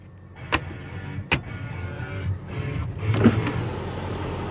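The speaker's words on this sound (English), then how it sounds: "fully powered one-touch automatic sunroof. It extends all the way to the back." Powered one-touch sunroof on a 2012 BMW X5 M sliding open inside the cabin, a steady motor whine with a few clicks and thumps as the panel travels back, heard alone at close range.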